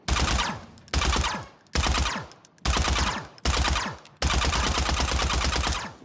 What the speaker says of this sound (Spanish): Al disparar, el arma también emitirá sonidos especiales que varían con cada disparo.